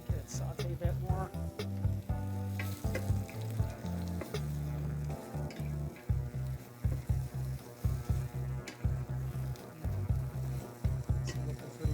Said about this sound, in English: Brown that nicely, saute it a bit, a little bit of garlic butter in there again, get it saute a bit more.